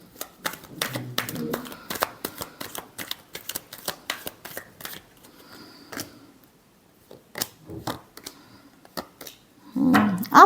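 Tarot cards are shuffled by hand in quick, close bursts of crisp riffling and slapping, with short pauses between runs and a brief voice at the end.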